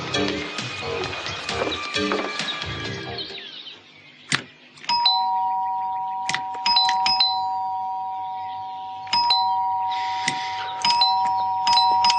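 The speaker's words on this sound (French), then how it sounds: "arrêtez, vous allez détraquer la sonnette" A doorbell rings again and again, its bright two-tone chimes sounding in several bursts. Busy background noise comes first, then a quieter room.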